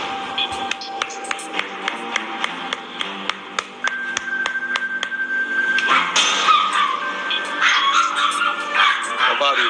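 An antisocial guard dog behind a gate yaps and barks in a steady run of sharp, close barks, then a burst of louder yelping and whimpering near the end.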